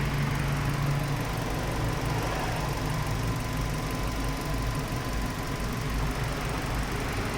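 A 2024 small food truck's engine, with about 1,200 km on it, idles steadily at close range, a low even rumble with a faint mechanical ticking and no voices.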